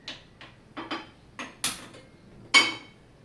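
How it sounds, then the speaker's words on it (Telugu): A stove being lit: a series of sharp metallic clicks and taps, about six separate knocks spread irregularly over a few seconds, fairly close and dry against a quiet background. "ఇప్పుడైతే మనం స్టవ్ వెలిగించుకుందాం"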